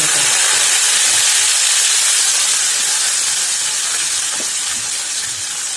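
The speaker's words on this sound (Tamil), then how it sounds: "இப்போ வந்து உருளைக்கிழங்கு வந்து ஃப்ரை பண்ணிக்கலாம் எண்ணெய் ஊற்றி எண்ணெயில் ஊற்றி வைக்கலாம்" Potatoes and crushed ginger frying in hot oil give a steady, loud hiss with spitting crackle, continuous throughout with no talking.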